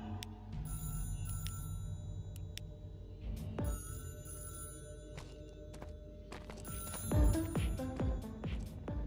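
A telephone rings inside the video game Crying is Not Enough, a steady electronic ringing heard at moderate distance beneath ambient in-game hum and a few thumps.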